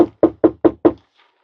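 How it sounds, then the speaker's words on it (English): Five firm, evenly spaced knocks on a door, close and loud, then quiet. "You can even knock on the door for yourself, which I'm going to do in a second."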